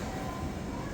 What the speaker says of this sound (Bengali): অল্প কিছুক্ষণের মধ্যেই আমাদের ট্রেন উত্তরা সেন্টার স্টেশন থামলো।